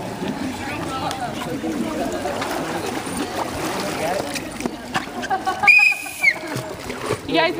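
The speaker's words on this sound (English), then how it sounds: "wait for the whistle to be blown." A short sharp whistle blast at a swimming pool during a swim lesson, over splashing water and echoing crowd chatter, with voices talking throughout.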